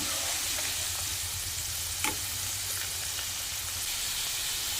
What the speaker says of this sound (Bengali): এখন আমি আলুগুলো দিয়ে দেব। মিডিয়াম ফ্লেমে এগুলোকে ভেজে নিতে হবে।